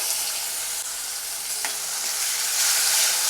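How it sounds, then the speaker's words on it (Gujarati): Medium-sized tomato pieces sizzle steadily in hot tempering oil with curry leaves while being stirred, a dense, even frying hiss with faint scrapes and no talk, for a moong dal dish. "એક ટમેટાના મીડિયમ સાઇઝના ટુકડા કરેલા છે એ ઉમેરી દેશું"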